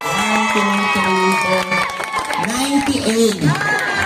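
A lively crowd at a neighborhood barangay bingo game cheers and shouts loudly for a contestant, with excited voices rising and overlapping continuously throughout.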